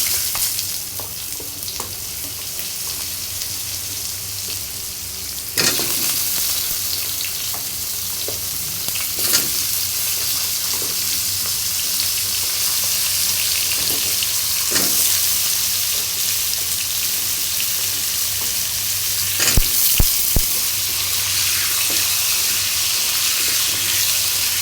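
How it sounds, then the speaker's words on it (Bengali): Potato pieces fry with whole cumin seeds in oil left over from frying eggplant, giving a steady close sizzle broken by occasional sharp utensil clinks and stirring scrapes, with no talking. "আলুগুলো আমার লাল করে ভাজা হয়ে গেছে"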